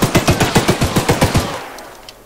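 A rapid burst of about a dozen evenly spaced gunshots from a gun with infinite ammo in the horror game Choo-Choo Charles, loud and close, then fading into a short quiet tail.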